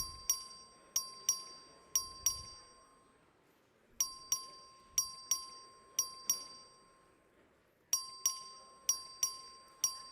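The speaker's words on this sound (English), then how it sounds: "The clerk will ring the bell." A clerk rings the voting bell in a legislative House chamber during a record vote, bright metallic dings struck in three repeated bursts of about five strikes each, clear and ringing over a quiet room.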